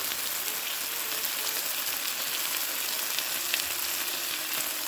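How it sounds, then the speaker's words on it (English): Pears searing in a pan with apple cider vinegar, the flame already turned off, give a steady soft sizzle with faint crackles throughout, close and continuous without talk. "I'm just going to flip these over just so these pears can absorb"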